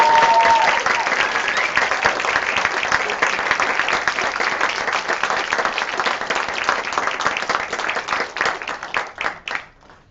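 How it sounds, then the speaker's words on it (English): Sustained applause from an audience at an evening Kathak dance performance with live musicians, loud and dense throughout, thinning into scattered claps near the end. "Can we give them one more round of applause,"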